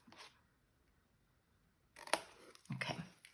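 Card being cut with scissors while making a tower block card, a short snip near the start, then quiet, then a louder crisp cut and a final scrape close by.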